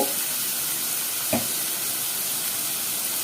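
Curry leaves and onions fry in a pan, a steady close sizzle and hiss with one short knock of a spoon against the pan partway through.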